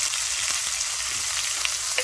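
Food sizzles steadily in a pan with curry leaves for an asparagus thoran side dish, a constant close frying hiss with faint stirring scrapes, no voices.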